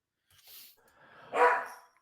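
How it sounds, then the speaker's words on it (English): A dog barks in the background, a few faint, brief yelps followed by one louder bark near the end, otherwise quiet. "I got another dog screaming"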